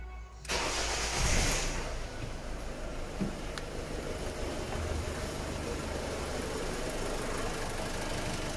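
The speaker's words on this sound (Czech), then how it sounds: "zkusím zase vypnout, nastartovat, co to udělá" A Ford C-Max 1.6 TDCi diesel engine with a hunting idle fault cranks and starts, then settles into a steady, close idle that runs on alone with faint knocking.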